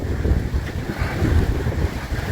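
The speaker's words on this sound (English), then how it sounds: "sorry, it's a little bit windy" Steady wind buffeting the microphone, a low rumbling roar that continues throughout with no voices.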